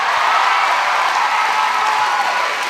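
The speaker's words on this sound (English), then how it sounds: "Round of applause for Jake." A broad, steady wash of clapping from a large audience at a singing competition, sustained and even throughout.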